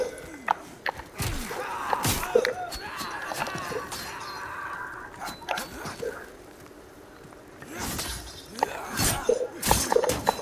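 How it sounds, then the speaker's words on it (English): Wooden boxes smashed in Demon's Souls, several sharp cracking breaks spread through the clip, some sounding close and loud, with a low game ambience underneath. "I don't think there's any benefit to smashing the boxes"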